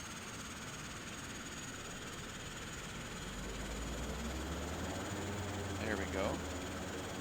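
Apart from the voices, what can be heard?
Saab 340 turboprop engine starting up, flight simulator game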